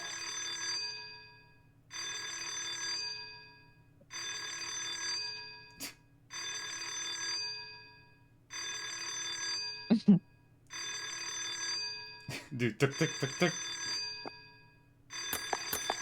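A telephone bell sound effect rings in repeated long bursts with short pauses between them, loud and close, while a voice speaks briefly and sharp knocks cut in near the end.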